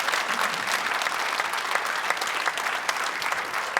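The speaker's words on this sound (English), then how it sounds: "can we give these speakers a round of applause?" An audience gives a round of applause for the speakers at a talk event, dense sustained clapping that fills the whole moment with a few louder individual claps standing out.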